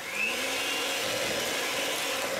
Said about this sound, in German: Jetzt nehmen wir abgewogene Butter, bisschen Salz und werden wir erstmal Butter mit Salz aufschlagen.